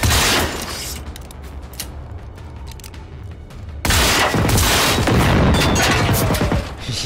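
A powerful new gun fires in the video game Generation Zero, loud dense bursts of shots that roll into sustained rapid gunfire with booming impacts and only a brief lull partway through.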